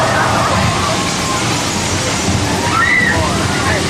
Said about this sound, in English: we create the flood with thousands of gallons of recycled water from a tank way up on the hill